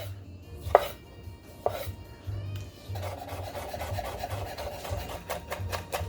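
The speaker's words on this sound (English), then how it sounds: "Meanwhile, chop the tomatoes." A knife chops tomatoes on a board: a couple of sharp isolated thunks, then a quicker run of repeated cuts, close and fairly loud, with no one talking.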